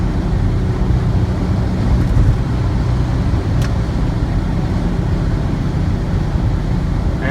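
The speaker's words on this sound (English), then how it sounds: "That's with the fan on, the AC on, full blast, and the Subaru engine purring." A 1991 VW Vanagon converted to a Subaru 2.5L engine drives at speed with the AC and fan on full blast, giving a steady, loud low engine drone with road and wind rumble and no talk.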